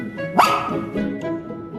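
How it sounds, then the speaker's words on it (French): A single dog barks once, near and fairly loud, with faint lower sounds trailing after, in a home setting where the dog is being asked a yes-or-no question. "Si tu réponds oui, aboie une fois."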